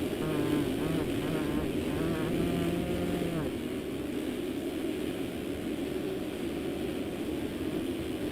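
Two-stroke motocross bikes racing in MX Simulator at RedBud, a steady engine drone with a brief higher revving whine early on, continuous and fairly close throughout.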